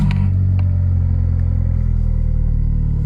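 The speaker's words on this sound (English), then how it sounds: "I'll start it up now" A Volkswagen Polo engine settles into a loud, steady low rumble at idle, with a brief rougher catch at the very start and an even throb afterward.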